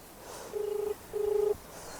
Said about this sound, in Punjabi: ਮੈਂ ਤੁਰੀ ਜਾਂਦੀ ਫੋਨ ਲਾਈ ਲੈਣੀ ਆ